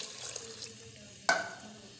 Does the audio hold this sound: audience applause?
no